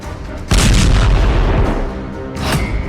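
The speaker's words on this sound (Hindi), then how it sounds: "धमाके का तीसरा वीडियो" A loud, heavy explosion from war footage in Syria bursts in after a brief lull, followed by rumbling blasts and a second surge of noise near the end, with no talking.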